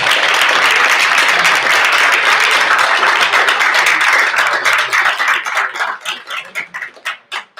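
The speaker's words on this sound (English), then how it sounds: "Please give our esteemed panel a round of applause." Loud applause from a seated audience honoring a business panel at a commercial leasing event, dense and steady at first, then thinning into scattered individual claps that fade out near the end.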